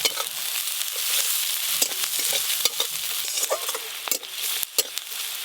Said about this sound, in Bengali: পেঁয়াজ কুচি ভাজা ভাজা তো হয়ে গেল।